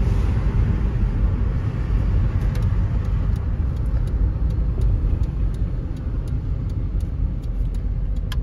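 Inside a 1999 VW Eurovan VR6 van on the road, a loud, steady low rumble of engine and road noise continues throughout with faint rattles and no talking.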